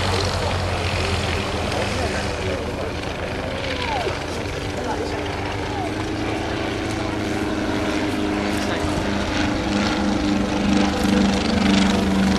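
Light aircraft powered by engines of 39 horsepower each, built from VW Beetle engines, droning steadily and loudly as it passes at an air show weekend, with some people talking.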